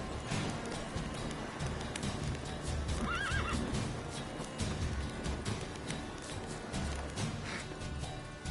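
Roach the horse gallops in The Witcher 3 with steady clip-clop hoofbeats and a clear whinny partway through, over busy game ambience and music.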